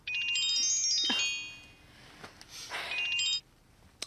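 An electronic phone ringtone plays in two melodic bursts separated by a short pause, fairly close and clear.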